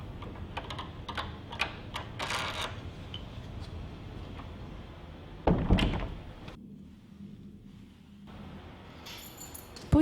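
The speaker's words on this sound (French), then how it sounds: "Ensuite, dévissez et retirez la vis de fixation." A door lock cylinder fixing screw being unscrewed and removed, heard as a run of small, close metallic clicks and taps followed by a louder scraping rub and a short quiet stretch.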